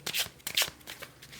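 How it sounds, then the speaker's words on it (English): A deck of tarot cards is riffled and shuffled in a few quick, close bursts of papery flutter and snapping, with no talking. "I did shuffle already before I turned on the camera. Let me just do the last little bit here"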